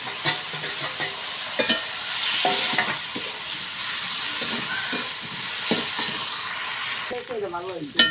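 Fish frying in a pan with green chillies and onions, a steady loud sizzle broken by scraping stirs and clatters of a utensil, close by.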